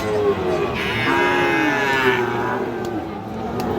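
A cow moos loudly at a busy cattle market where Friesian and crossbred bulls and calves are sold, one long rising low call that carries over the steady murmur of the crowd nearby.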